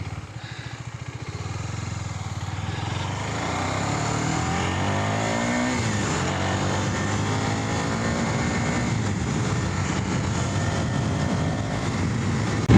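A KTM Duke 250 BS6 motorcycle rides along a rough road, its engine droning loudly and steadily throughout, with rising revs and shifting pitch as it moves close to the listener.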